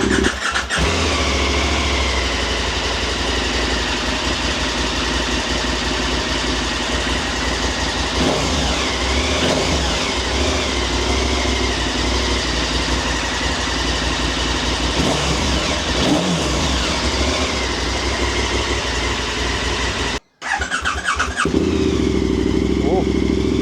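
KTM 1290 Super Adventure motorcycle with an SC-Project exhaust and muffler deleted fires up and revs hard, a loud, deep, bassy roar held close with a brief cut near the end before it catches again.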